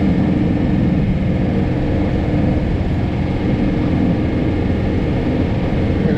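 A John Deere 4066R compact tractor drives a 74-inch PTO snow blower at about 540 rpm, chewing through compacted heavy snow in a blizzard: a loud, steady low engine drone with constant broadband roar, close and unbroken throughout.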